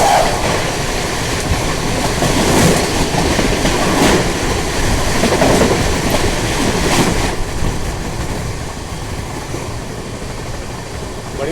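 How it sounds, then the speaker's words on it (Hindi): An Indian Rajdhani express train crossing the Black Diamond Express on the Dhanbad–Howrah line near a steel plant, heard as a loud, steady roar of passing rail cars with rhythmic clatter pulsing throughout, from onboard. "यहाँ क्रॉसिंग होने वाला है ब्लैक डायमंड एक्सप्रेस के साथ धनबाद हावड़ा"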